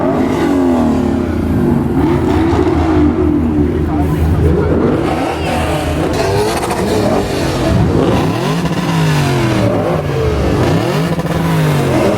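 Lexus F car revving at a car meet in a parking lot, engine loud and near with repeated rising and falling rev sweeps, crowd chatter and voices underneath throughout.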